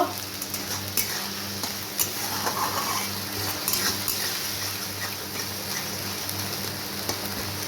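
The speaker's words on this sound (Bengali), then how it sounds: "মশলাটাকে খুব ভালো করে আমি কষিয়ে নেব" Spice paste for a Bengali-style taro, potato and fish curry being sautéed in a pan: a steady, fine sizzling hiss with scattered light clicks and scrapes of a utensil against the pan, no voices.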